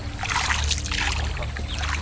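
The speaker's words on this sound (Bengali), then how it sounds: "আঁকা বাঁকা সরু খাল বেয়ে নৌকা এগিয়ে চলে সামনে।" A small wooden rowing boat works its way along a narrow, winding tidal canal in the Sundarbans mangroves, with soft water sloshing and splashing close by over a steady low hum.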